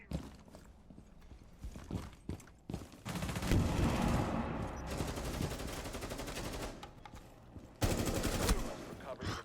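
Gunfire in Rainbow Six Siege, a player shooting repeatedly at a piece of the environment: rapid bursts of loud shots, sustained then resuming after a short pause, with a voice talking lightly at the start.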